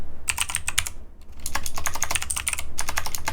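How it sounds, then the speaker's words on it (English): Quick bursts of typing on a computer keyboard, close and crisp, with rapid clicking keystrokes broken by a short pause near the middle, no talking. "Oh, and typing too, apparently."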